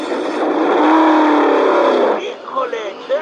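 Race car engines start and rev together at the starting line, a loud, sustained, rising engine drone for about two seconds that then breaks into a few shorter, fading revs.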